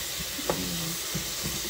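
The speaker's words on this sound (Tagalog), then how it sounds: "Tapos, haluin." Tomatoes and onion sizzle in a pan while being stirred for bopis, a soft steady frying hiss with a few light scrapes of the spoon.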